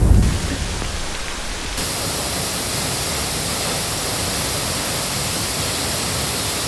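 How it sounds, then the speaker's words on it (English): Baba waterfall in Amboli Ghat, swollen by monsoon rain, gives a steady, dense roar of falling water that holds unbroken throughout, with a brief louder rustle at the very start and no talking. "We have made it to the Baba waterfall."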